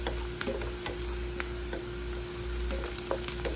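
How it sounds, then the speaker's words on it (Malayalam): Curry leaves stir-frying in oil in a pan for a homestyle pasta, giving a steady close sizzle with soft scraping stirs and small crackles throughout, no talking. "അതുപോലെ തന്നെ നമ്മുടെ കറിവേപ്പില അതും കൂടി ചേർക്കാം നന്നായിട്ടൊന്ന് ഇളക്കി കൊടുക്കണം"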